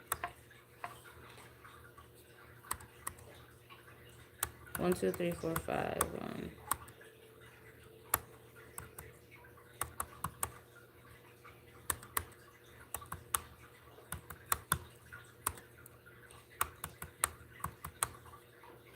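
Computer keyboard typing heard as sparse, faint, irregular key clicks scattered across a quiet room, with a brief stretch of speech partway through.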